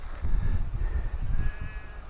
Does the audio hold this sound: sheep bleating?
yes